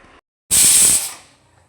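A loud burst of hissing steam from a pressure cooker whistle starts abruptly, holds for about half a second with a sharp whistle-like tone, then fades away into quiet.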